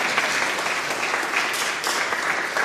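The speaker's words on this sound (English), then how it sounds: "Another round of applause." Steady, dense round of applause from an audience at a community interfaith book discussion, continuous even clapping filling the room without a break.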